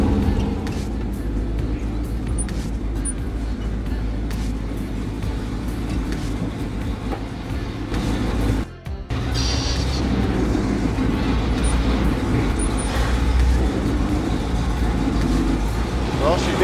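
A 1975 International 1800 truck, first started after more than twenty years of sitting, idles and drives with a steady low engine rumble as its rear tires come off the bead; people talk at times over the engine noise.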